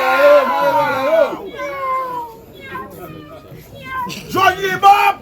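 A cat meows several times, drawn-out wavering cries near the microphone with short pauses between them, while other voices are heard nearby.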